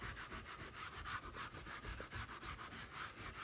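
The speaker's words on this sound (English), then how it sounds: "I just take my fingertips and just scrub it in there a little bit" Fingertips scrub cleaner into an RV ceiling, making a rapid, rhythmic rubbing swish that repeats steadily at close range with no voices.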